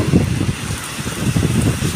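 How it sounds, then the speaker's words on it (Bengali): Steady, dense rain noise with a continuous wash of drops, fairly close and loud, with no voices over it. "বৃষ্টিটা কি জোর বৃষ্টি পড়ছে"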